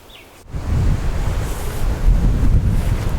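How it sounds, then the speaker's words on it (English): Sea waves breaking on a shore roar in a steady, continuous wash, loud and close, with heavy wind buffeting the microphone. "You can see the waves breaking on the shore"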